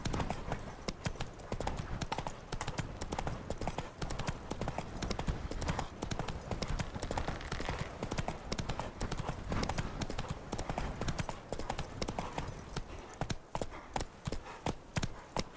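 Horse hooves gallop in The Witcher 3: Wild Hunt, a steady, loud clip-clop rhythm that runs throughout, close up, with faint game ambience and no talk.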